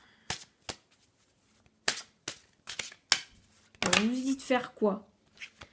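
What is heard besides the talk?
handling and shuffling tarot cards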